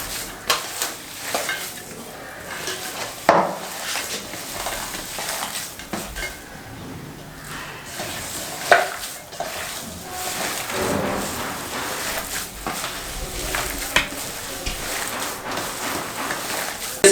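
Chicken kofta curry mixture is stirred in a hot pan, giving a steady close sizzle with scraping and clattering of the spoon throughout.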